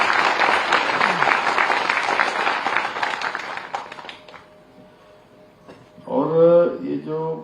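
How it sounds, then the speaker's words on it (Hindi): Audience clapping for a group of children at an education department event in Dehradun, a dense sustained burst that fades out over several seconds before a voice speaks briefly at the end. "एक बार इन सब बच्चों के लिए ताली बजा दीजिए।"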